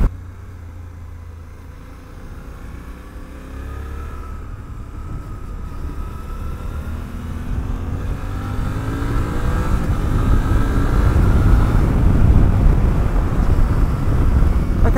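A Suzuki V-Strom 800DE parallel-twin motorcycle accelerating along a motorway, its engine note climbing steadily under heavy wind rush that grows louder toward the end, with no talking.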